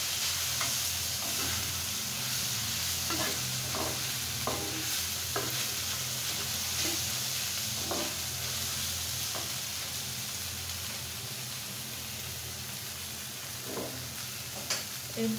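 Boiled noodles crackle and hiss as they are stir-fried in a pan, a continuous close sizzle punctuated by irregular utensil scrapes and taps throughout.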